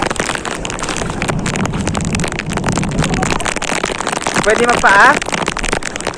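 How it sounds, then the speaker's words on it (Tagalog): Rain falls steadily on Dancalan Beach in Bicol, a dense, close hiss running through the whole stretch while people talk over it. "Beach, sa gitna ng ulan."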